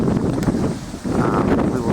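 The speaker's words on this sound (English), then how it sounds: "it's a little bit windy today" Gusts of wind buffet the microphone with rumbling, uneven bursts, briefly easing midway before picking up again.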